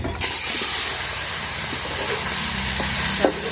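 Pond-caught taki fish frying in hot oil in a pot, a steady, dense sizzling hiss close by that runs unbroken after a brief quiet start, with a few faint clinks.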